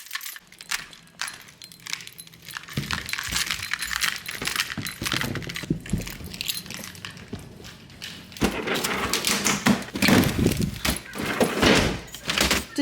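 Keys jangle and clink up close among scattered handling sounds as someone gathers sunglasses and keys before heading out, with light thumps and door-like bumps mixed in over several seconds.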